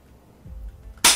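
Single sharp airsoft shot fired at a person during a penalty-shootout forfeit, a loud close crack near the end after a low rumble and quiet handling noise.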